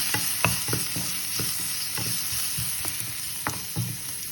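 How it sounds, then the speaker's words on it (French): Bell pepper pieces fry in a pan under a bright, steady sizzle, punctuated by regular stirring knocks and scrapes of a utensil against the pan. "Je vais maintenant ajouter les morceaux de poivre à beurre que je vais également faire revenir."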